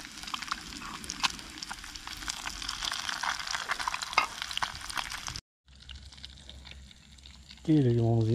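Tilapia sizzles steadily as it fries in hot oil, a continuous crackling hiss that cuts out briefly before a voice comes in at the end.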